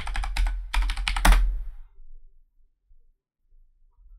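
Rapid keypresses on a computer keyboard tap out a password in three close, crisp clusters over about a second and a half, then the room falls nearly silent.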